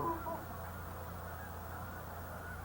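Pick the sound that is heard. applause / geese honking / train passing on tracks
geese honking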